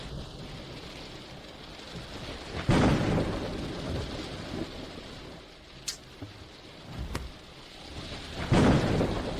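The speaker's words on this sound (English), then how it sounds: "I hate rain the most." Steady rain falls under two loud rolling thunderclaps, one early and one near the end, with sharper cracks and faint rumbles in between.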